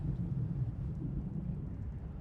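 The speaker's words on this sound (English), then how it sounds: "The storm rages, but here I am, out of the rain." A steady thunderstorm with rain in the Elder Scrolls Online game rolls on as a low, rumbling wash of rain and distant thunder, heard alone without voices.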